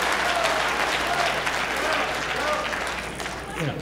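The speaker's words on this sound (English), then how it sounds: "long applause really just eats into the next speaker's time" Steady crowd applause rolls through a New York City public hearing hall, a dense, moderately loud wash of many hands clapping that continues unbroken and fades slightly near the end, with a faint voice in the background.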